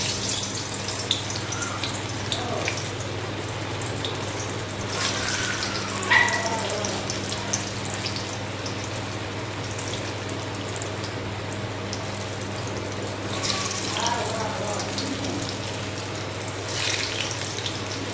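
Alu vadi pieces, colocasia-leaf vadas, frying in hot oil with a steady bubbling sizzle and a few louder crackling swells as pieces are slipped in; faint background hum, no talking.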